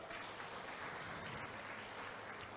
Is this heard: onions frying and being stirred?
no